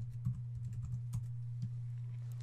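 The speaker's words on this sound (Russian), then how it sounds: "Введем ее название" Keys clacking on a computer keyboard as a name is typed, a short burst of uneven taps followed by a few isolated strokes, close and clear over a steady low hum.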